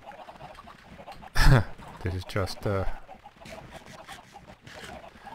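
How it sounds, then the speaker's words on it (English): Many chickens in a Minecraft Tekkit modded chicken farm cluck and squawk in a brief burst of game sound effects, with someone talking over them. "I haven't checked out my chicken farm in a while, and this is what I saw when I came up here. That's 115 chickens"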